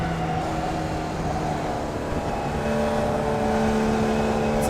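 Formula Vee race car in iRacing, engine note held loud and steady at high revs, a continuous buzzing drone that climbs slightly toward the end, with no voices over it.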